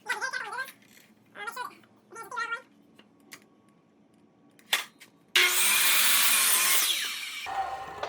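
A miter saw cutting a 45-degree angle through wood while building a foldable workbench: a loud, steady whine of the spinning blade starts suddenly and runs to the end, after someone speaks and a cat meows.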